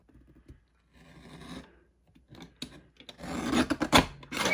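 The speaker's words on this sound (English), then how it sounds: "we're going to just trim all of that off, and I'm going to grab a mini cutter to do that" A mini cutter trims paper at close range, giving short scratchy snips and rasping strokes, faint at first and growing louder and denser toward the end.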